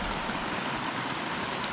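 Water rushing along a creek full of small waterfalls in a warm riparian area with berry patches, a steady broadband wash with no pauses, close and moderately loud throughout.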